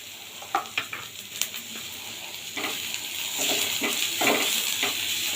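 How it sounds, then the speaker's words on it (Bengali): Crushed ginger and garlic frying in oil in a home kitchen, a steady close sizzle with occasional scraping stirs and clinks of a spatula, growing louder and denser partway through. "আদা আর রসুন থ্যাতো করে রেখেছি এইটা ভালোভাবে এটাকে ফ্রাই করে নেব তেলে"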